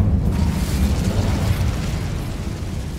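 A fiery burst from the Incendio spell in Hogwarts Legacy, a loud, dense rumbling roar of flame that holds steady for about three seconds with no pause.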